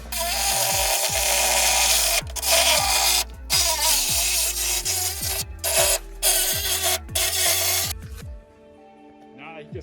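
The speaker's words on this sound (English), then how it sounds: "Right now he's drilling in the guide hole so he can stay level on the inside of the cab" Power drill boring a guide hole through the back cab wall of a minitruck during a convertible conversion, heard as loud repeated drilling bursts that stop and start with short gaps, the motor dropping away at each break before quiet at the end.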